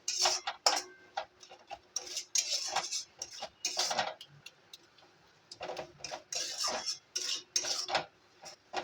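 A pan of prawn pilaf masala being stirred and sautéed, with a utensil scraping and clinking against the metal in quick irregular bursts and a short pause midway, close and clear with no talk.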